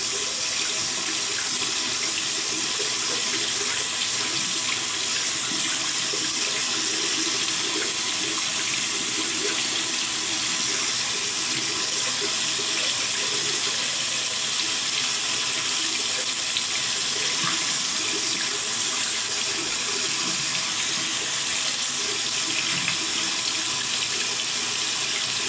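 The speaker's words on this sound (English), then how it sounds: "I'm gonna put some warm water on it." Warm water runs steadily from an indoor tap, a continuous close splashing hiss with no pauses across the whole stretch.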